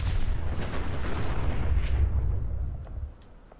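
A heavy boom from a grenade exploding in Fallout 4 during a fight with a Mirelurk King, with a deep rumbling tail that decays over a few seconds and a few faint pops after; no talking.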